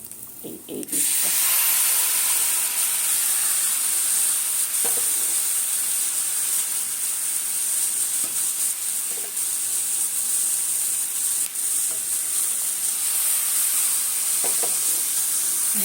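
Blended milk hits a hot pan of cooking semolina with coconut and bursts into a loud, sustained sizzle and hiss that holds steady from start to finish.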